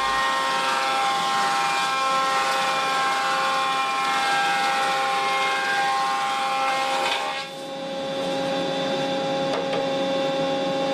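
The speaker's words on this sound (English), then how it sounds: "When feeding timber through, the operator should stand to the side of the timber." A planer thicknesser feeds and cuts timber with a steady, loud machine whine and hum that runs nearly throughout, briefly dipping near the end before resuming.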